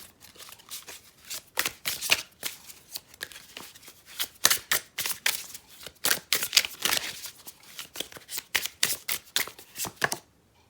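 Tarot cards are shuffled and drawn in a sequence of crisp riffling bursts and soft slaps, close up and irregular in rhythm, with brief pauses between the flurries.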